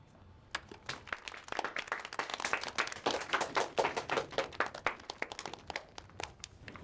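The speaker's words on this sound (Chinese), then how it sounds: "大家鼓鼓掌。" Scattered hand claps from a small group of colleagues in an office meeting, irregular and fairly close, building briefly then thinning out.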